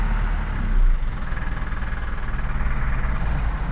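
A motorcycle engine idles steadily after starting, a low continuous rumble with a slight surge near the start, heard close and alone; the bike has a speedometer whose indicators all go dead and a meter fuse that keeps blowing.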